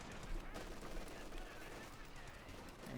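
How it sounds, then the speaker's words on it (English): Sustained German MG-42 machine gun salvo in Company of Heroes 2, a dense continuous rattle of rapid fire layered with distant battlefield gunfire, steady and fairly loud throughout. "the MB-42 unleashes a salvo of hot German lead"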